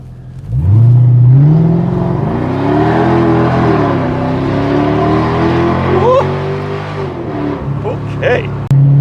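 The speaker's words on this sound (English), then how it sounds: "This car's got some good get up and go." A car, likely a BMW Z4 E85, revs hard as it accelerates, engine pitch climbing and holding loud and close while a person talks over it.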